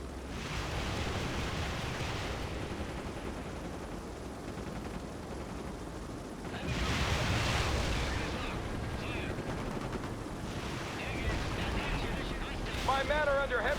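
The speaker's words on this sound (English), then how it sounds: "My men are under heavy fire!" Heavy gunfire rages in a World in Conflict battle for New York, a dense continuous roar of shots and blasts that swells midway, with tonal radio-like voices briefly surfacing near the end.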